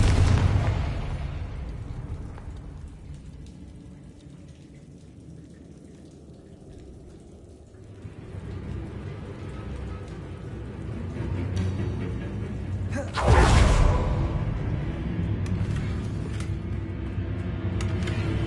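A Confringo spell explosion in a Harry Potter video game, a rumbling blast that swells and fades at the start, then a sharp, loud burst about two-thirds through followed by a lingering crackling roar.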